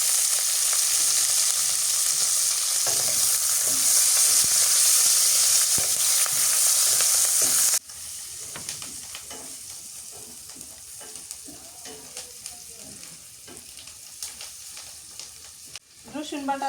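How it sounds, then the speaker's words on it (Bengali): Chilies and onions frying in hot oil in a village kitchen, a loud steady sizzle for several seconds that drops to a quieter crackle with scattered stirring clinks. "তেল দিয়ে দিই এখন মরিচ পেঁয়াজটা আগে ভাজে নিলাম"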